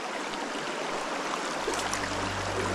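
A small mountain torrent near its source flows steadily, a continuous close broadband rush of water with a low rumble building in the second half, no voices.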